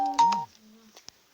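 Telephone dialing tones: a few short electronic keypad beeps, clear and fairly quiet, followed by a single brief blip.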